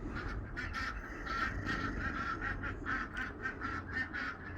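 Ducks quack in a loud, continuous racket close by, many overlapping calls repeating rapidly throughout while they crowd around a bowl of peas outdoors.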